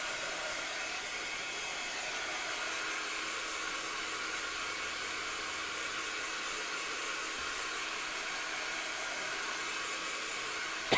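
Hair dryer blowing on wet paint to dry it, a steady, close whooshing hiss held unbroken throughout.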